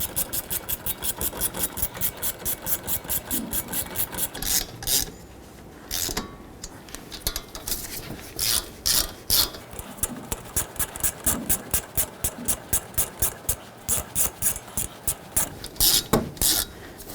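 Brake caliper bolts on a Dodge Journey are tightened with a ratchet, a long run of quick, close clicking strokes broken by a few short pauses, fairly loud and alone.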